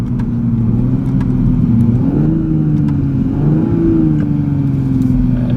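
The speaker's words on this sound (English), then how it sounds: "we're gonna do a little street hit, see how it hooks here. Just do like a little first gear or something." A 2020 Toyota Supra on Mickey Thompson tires launches in first gear on the street, its engine note rising and wavering in a loud, close, continuous rev with no talk.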